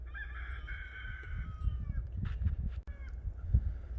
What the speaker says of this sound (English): I think the rooster wants out